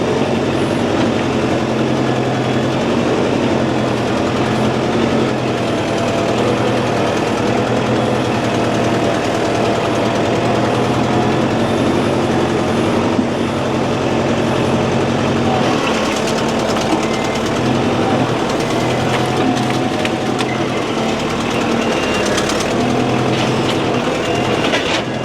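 A heavily loaded tractor engine drones steadily and loudly throughout, with rattling, clanking mechanical noise layered on top and no talking.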